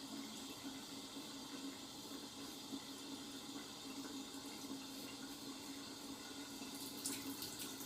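Tap water runs steadily into a bathroom sink while a safety razor is rinsed during a beard shave, a continuous even splashing stream with no speech over it.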